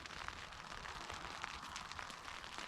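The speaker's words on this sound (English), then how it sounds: "it's raining outside" Rain falling outside a rooftop truck tent at a camp, a faint, steady patter of many small drops tapping the surface, dense and even with scattered louder ticks, heard alone without talk.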